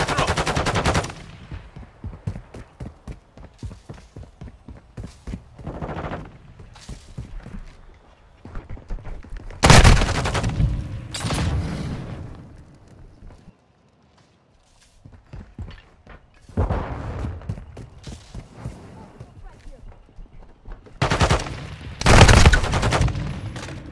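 Rapid automatic gunfire in a multiplayer shooter game, long loud bursts and single shots with pauses between, along with footsteps and occasional voice callouts.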